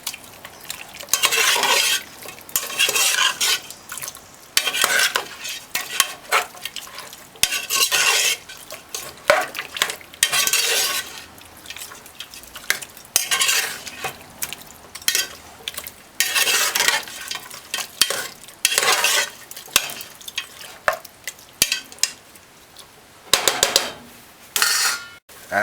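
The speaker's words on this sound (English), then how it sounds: "With the stove on high, just stir it." Turkey neck sizzles in a pot on a high stovetop burner while a utensil stirs it, scraping and clanking against the pot in repeated bursts between quieter stretches of frying.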